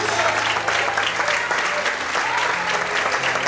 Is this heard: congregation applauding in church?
yes